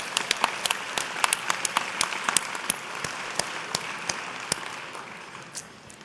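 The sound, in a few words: audience applauding the Catalyst staff at an awards dinner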